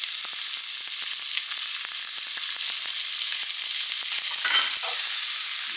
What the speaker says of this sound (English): I'm going to kind of let that cook down, the onions and the garlic.